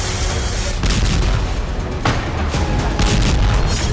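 Explosions from Hezbollah rocket attacks on Israeli cities, heard as a dense roar of booms and rumbling blasts with several sharper impacts, loud and continuous, no talking.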